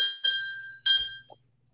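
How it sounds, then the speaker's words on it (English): Auction bell at a jewelry auction, two bright metallic rings in quick succession, each with a clear ringing tone that fades out, loud and close with no talking over it. "I get such a kick out of that bell"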